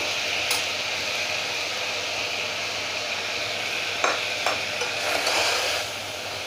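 Steady scraping and stirring as washed rice is mixed into a simmering mixture for a mild breakfast dish, a continuous hiss underneath with a few soft clinks of the spoon against the pan near the end.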